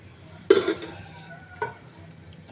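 Pieces of bottle gourd hit hot spiced oil in a Bengali home kitchen with a sharp sizzling burst, then a second shorter splash of sizzle as they are stirred in, with quiet background between.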